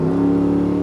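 The engine of a truck with headers feeding into mufflers revs through a downshift, a loud, close, steady droning exhaust note held for under a second.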